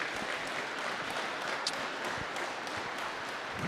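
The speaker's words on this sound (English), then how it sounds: "How about a round of applause for all the volunteers here for this event?" Audience at a curling final clapping for the event volunteers, a sustained, even patter of applause filling the arena for nearly four seconds, with a few louder claps near the middle.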